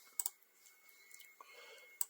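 Sharp clicks from pressing a button on an sBitX amateur radio transceiver: a quick double click near the start, a few softer ticks in the middle, and another click at the end, quiet and close in a hushed room.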